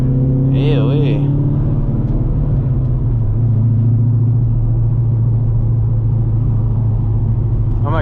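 Loud cammed Corvette C5 V8 engine rumbling steadily while cruising, a deep lopey drone heard from inside the car throughout, with a brief engine rise near the start.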